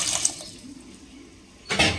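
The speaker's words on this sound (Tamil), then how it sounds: "இன்னும் கொஞ்சம் தண்ணி சேர்த்துக்கிறேன்." Water is poured into a pot for pea and potato gravy, heard as short, close splashing rushes at the start and end of a quiet stretch.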